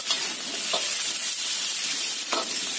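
Garlic and carrots stir-fry in a hot pan with a loud continuous sizzle, punctuated by a few soft scraping stirs of a utensil, close up and with no talking.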